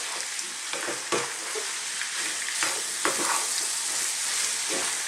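Italian beef stew, spezzatino di manzo, cooking uncovered in a pot while a spoon stirs through it, giving a steady close sizzle with scraping and knocking strokes at irregular intervals.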